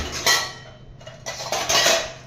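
A steel bowl clatters and clinks as it is picked up from among other dishes and cutlery, two or three close metallic bursts over a short moment.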